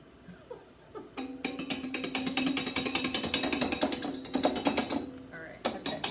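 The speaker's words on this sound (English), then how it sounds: "That mixer is nice and it's quiet." An electric mixer whips a mixture to stiff peaks, starting after a brief pause with a steady, rapidly pulsing mechanical whir that runs for several seconds before cutting out and restarting briefly.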